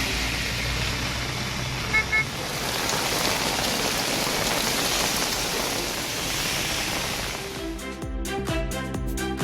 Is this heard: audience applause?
no